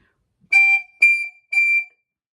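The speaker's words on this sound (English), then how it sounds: "if you overblow and it's covered like this, it sounds really bad." Three short, shrill squeals from an overblown recorder mouthpiece, piercing and evenly spaced, loud and close with silence between them.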